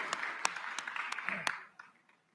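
Scattered audience clapping at a live panel event on digital platforms for the creative industry, a few sharp claps over a thin crowd murmur, fading out after about a second and a half.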